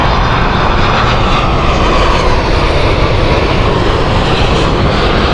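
An airliner's jet engines roar loud and close at Heathrow Airport, a dense, steady rumble filling the whole stretch without a break.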